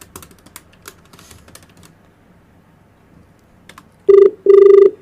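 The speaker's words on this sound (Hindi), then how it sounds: "नंबर मिलाओ।" A few soft taps on phone keys, then two loud, steady electronic tones sound close by, one after the other.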